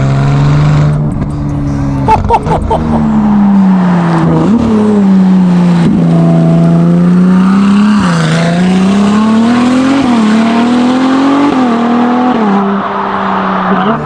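A Novitec-tuned Ferrari 296 GTB with a 2.9-litre 120-degree twin-turbo V6 revs loudly and close up, the engine tone climbing and falling through several blips, with sharp turbo blow-off chirps in the early seconds.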